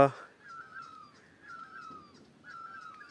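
A great barbet calls in a forest in spring in Pyuthan, Nepal, with three drawn-out, even calls at a steady pace, clear and moderately close after a brief burst of noise at the start.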